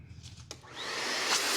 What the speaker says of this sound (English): After pulling out the filter, I like to vacuum out the air filter housing.